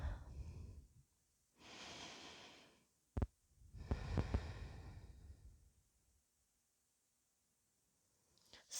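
Slow, deep breaths in a yoga class, taken in child's pose: two long airy exhales, then a sharp click, then a further long breath, all close and unvoiced, with quiet pauses between them.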